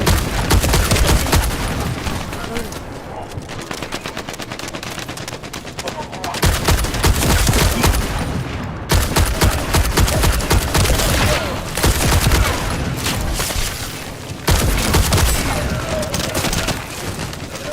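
Heavy, near-continuous gunfire in the shooter game The First Descendant, loud rapid bursts broken by brief pauses over roughly eighteen seconds.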